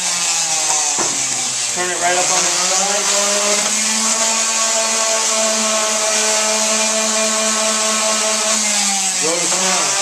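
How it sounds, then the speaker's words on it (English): Steady high-pitched whine of a power sander running continuously on an eastern red cedar bowl, with a person speaking briefly over it. "So we're going to jump right into sanding it down."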